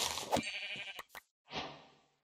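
Sheep bleating in the survival crafting game TerraFirmaGreg, a few close wavering bleats, one long cry followed by shorter calls after a brief pause.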